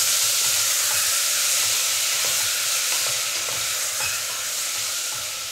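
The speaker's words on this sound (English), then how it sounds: "So we can carefully add all of these in. And kind of just stir it around." Peaches for a paleo BBQ sauce stirred in a hot pan, a continuous hissing sizzle with faint scraping from the utensil, close and steady, with no voices.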